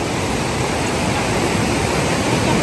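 A swollen village river rushes by close at hand, a loud, unbroken broadband roar of flowing water that stays steady with no voices.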